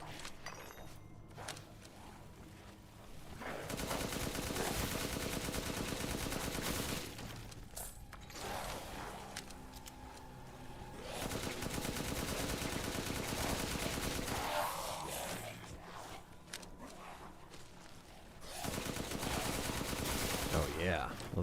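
Gunfire in Resident Evil Village comes in several long, loud bursts of rapid shots separated by short quieter gaps, with mechanical clicks and a voice speaking in between.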